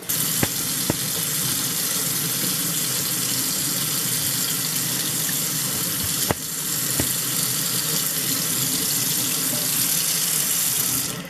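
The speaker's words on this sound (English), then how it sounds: "And then you can rinse it off right in the sink." Tap water runs steadily into a sink as old, dried-on paint is rinsed off craft stencils, a continuous close splashing rush with a couple of sharp clicks.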